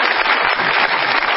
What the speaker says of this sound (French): Je vous demande d'applaudir le Festival de Vernon